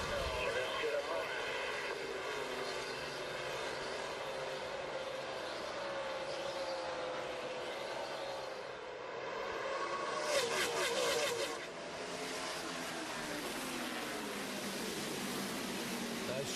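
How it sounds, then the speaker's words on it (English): NASCAR Chevrolet stock cars, including Jeff Gordon's and Dale Earnhardt Jr.'s Chevys, roar as they take the green flag at the 2007 Chevy Rock & Roll 400, engines rising in a loud, sustained swell under race commentary. "We're going to watch and listen as Jeff Gordon and Dale Earnhardt Jr. come down and take the green flag"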